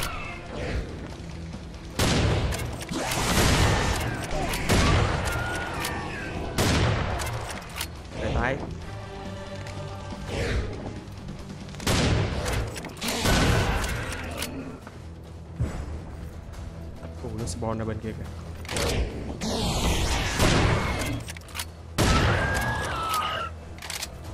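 Heavy weapon fire in the shooter game Serious Sam 4 bursts out in rapid, loud repeated blasts with explosive booms and mechanical clatter, continuing throughout amid game effects while someone talks over the action.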